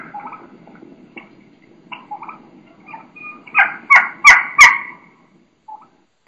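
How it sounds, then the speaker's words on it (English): A young turkey hen gives a run of high, thin keeks, soft and scattered at first, then several loud, sharp calls in quick succession before trailing off. "she's going to be doing quite a bit of keeking, you know, some high pitch sounds"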